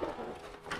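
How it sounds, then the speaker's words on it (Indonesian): A homing pigeon coos close by in a loft, a brief soft throaty call heard on its own. "Ini merpati pos."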